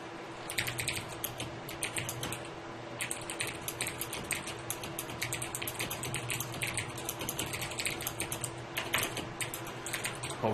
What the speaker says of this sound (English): Hopefully my keyboard's not too loud.